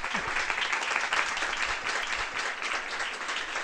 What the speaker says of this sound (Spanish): un gran aplauso para Carles